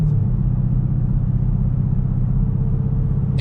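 A 2018 Dodge Durango RT fitted with new carbon fiber rotors and ceramic pads drives steadily, accelerating and gently braking to bed in the brakes; a close, continuous low engine and road rumble runs throughout with no talk.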